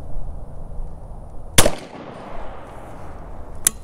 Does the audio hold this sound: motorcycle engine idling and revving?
no